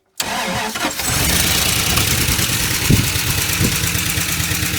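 A 1980 Dodge Power Wagon that sat unused for 20 years cranks briefly, then catches and settles into a loud, steady, slightly rough idle, close to the microphone.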